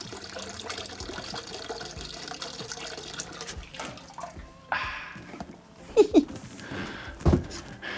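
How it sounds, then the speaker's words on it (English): Concentrated grape juice finishes draining into a pot while a Sauvignon Blanc wine kit is prepared at home, a steady close trickle of liquid followed by a few louder splashes and knocks toward the end. "And now I'll just finish, let that drain out."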